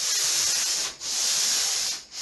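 A loft hatch cover being lightly flatted with 180 grit sandpaper, two close steady rasping strokes in one direction with a brief gap between them.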